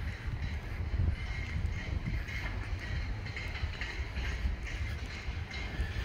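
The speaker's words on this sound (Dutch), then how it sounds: "die hebben ook zo'n treintje om een rondrit te doen te Terneuzen" A small tourist train in Terneuzen rumbles steadily along with a continuous low roar and faint rhythmic clatter, fairly close, with no voices.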